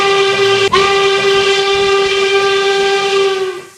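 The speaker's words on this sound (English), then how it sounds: "let's just hear this another whistle from Union Western" A loud American steam locomotive whistle from a Union Western engine in an RO-Scale model sandbox, one long sustained harmonic blast with a brief stutter near its start, held steady before fading away.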